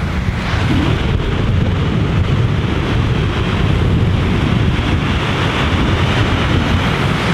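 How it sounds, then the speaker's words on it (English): A waterfall in remote Norwegian wilderness, a loud continuous broadband roar of rushing water with wind buffeting the microphone, steady and unbroken throughout. "we just found a super beautiful waterfall again"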